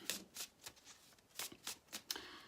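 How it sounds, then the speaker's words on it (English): Tarot card shuffling in quick bursts, several riffling passes with brief pauses between them, close and fairly quiet. "I'll just do one more quick shuffle"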